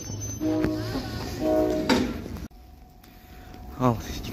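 An Almaty branded passenger train pulls into a station in Turkistan, sounding drawn-out horn tones over a low rolling rumble, with people talking nearby.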